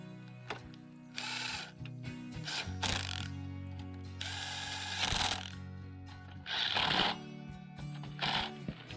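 Ratcheting clicks as the gas tank of a Sears edger is tightened, several close bursts of rapid metallic ratchet strokes separated by short pauses.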